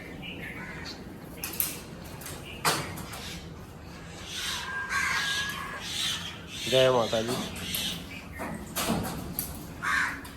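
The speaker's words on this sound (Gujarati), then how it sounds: "એ બધા કાગડા ને કાબરો આવી ગઈ જોરદાર." Crows and mynas calling around a home in the morning, scattered harsh caws and chattering bird calls at moderate distance, mixed with rubbing and household clatter, with a voice speaking briefly partway through.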